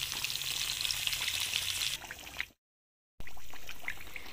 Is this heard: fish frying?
yes